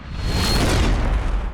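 A single heavy gunshot booms in a film scene, a loud close low-frequency blast with a rumbling tail that fills the short moment.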